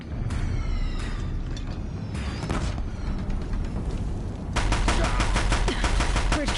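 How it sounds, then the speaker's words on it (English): Deathbringer war machines in Horizon Zero Dawn pound a bridge with relentless heavy gunfire, dense overlapping bursts and booms that grow even louder toward the end. "If the Deathbringers keep firing,"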